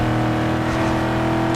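Koenigsegg Agera R supercar in Need for Speed Underground 2, its engine holding a steady, loud drone with harmonic buzz throughout the short stretch, no voices over it.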